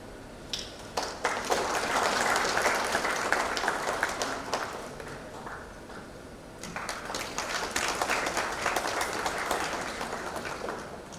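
Audience applause at the Jagran Achiever Awards ceremony in the NCR region: broad, sustained clapping from a crowd that swells, dips around the middle, then rises again and carries on to the end.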